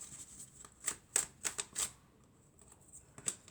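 Tarot cards are drawn and shuffled close by, a quick run of crisp, papery slaps and flicks in small bursts, then a pause and one more flick.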